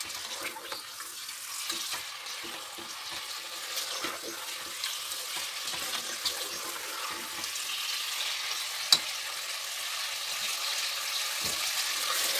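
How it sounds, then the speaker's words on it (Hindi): Chunks of beef frying in a pot for nihari after the onions are removed, a steady soft sizzle broken by irregular stirring scrapes and one sharp clink. "अब इसके अंदर जाएगा गोश्त। अब इसको भुनेंगे।"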